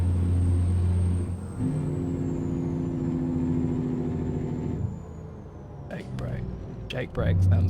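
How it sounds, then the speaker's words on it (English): A Peterbilt 389 in American Truck Simulator uses its Jake brake, producing a loud, steady low rumble that dips briefly twice and is joined by sharper bursts near the end. "Jake brake sounds awesome on here."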